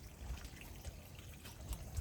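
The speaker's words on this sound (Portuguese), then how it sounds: "Ó, água fresquinha, ó." Fresh water trickling and dribbling outdoors in a natural setting, a steady close, gurgling flow with a low rumble underneath and no speech.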